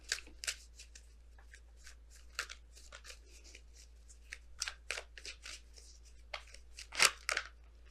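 Oracle cards being shuffled and pulled from a deck, a quiet, close run of irregular riffling flicks and snaps, louder near the end, with no talk.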